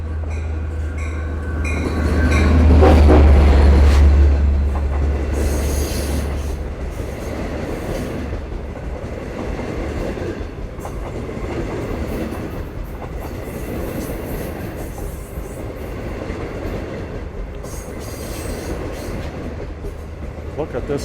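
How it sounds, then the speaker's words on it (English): A crowded Long Island Rail Road passenger train rumbles past close by at Speonk on Labor Day, swelling to a loud roar early on and then settling into a steady rolling clatter of wheels on track. "Look at this train, folks."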